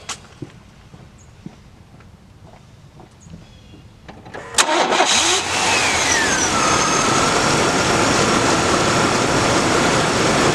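A 1998 Chevy 1500 pickup truck engine cranks with a few clicks, then catches and settles into a steady loud idle that carries on to the end.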